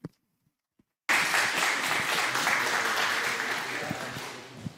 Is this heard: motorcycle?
no